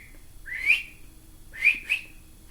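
A person whistles bird-like chirps during a children's bird-themed nursery rhyme session: one rising whistled note, a short pause, then two quick chirps close together, near and clear over a faint background.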